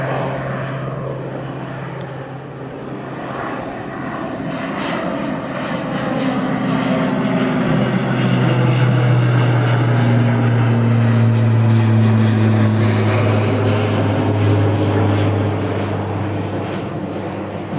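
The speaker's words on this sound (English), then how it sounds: "We had a Pilatus PC-12 at Eshet a few times during the pandemic, and it was really impressive to see them using such a short runway." A Pilatus PC-12 single-engine turboprop at Newcastle Airport, its propeller drone loud and close, rising and shifting in pitch as it passes, with a strong low hum and tonal whine throughout.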